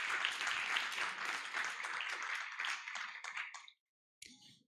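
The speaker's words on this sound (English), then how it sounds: "A big round of applause." Congress delegates at a plenary session applaud after a vote, a dense burst of clapping from a large room that thins out, stops abruptly, then resumes with a few scattered claps.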